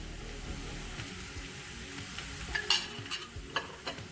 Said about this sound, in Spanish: Y vamos a freír esto por 1 minuto.